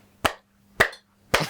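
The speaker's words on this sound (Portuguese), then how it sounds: "Batam palmas, a sério" Three sharp, separate claps from a studio audience during a talk show taping, evenly spaced and close, with near silence between them.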